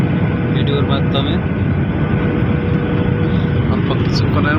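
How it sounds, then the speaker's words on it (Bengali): Passenger airplane descending to land at Hazrat Shahjalal International Airport in Dhaka, its steady cabin engine roar loud and unbroken throughout, with a few faint tonal blips. "বিমান ল্যান্ড করতেছে বাংলাদেশে।"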